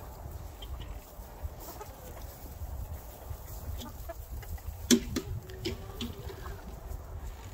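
Backyard chickens clucking softly and intermittently at a moderate distance over steady outdoor ambience, with one sharper, louder call near the middle.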